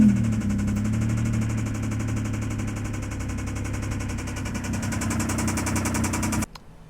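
A Mitsubishi GTO's engine runs roughly, a loud, close, rapid uneven chatter and thrum that holds steady for about six seconds before cutting off abruptly.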